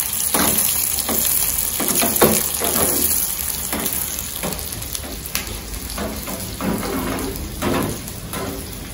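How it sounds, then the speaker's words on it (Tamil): Onions frying and being stirred in a pan while cooking keerai and mango kadayal, a dense crackling sizzle with repeated scraping strokes, close and without talk. "வெங்காயம் கொஞ்சம் நல்லா கலர் மாறணும், ஒரு ஒரு முக்கால் வேக்காடு. அது அது வதங்கும் போது நம்ம பூண்டையும் சேர்த்துட்டு ஒன்னா வதக்கணும்"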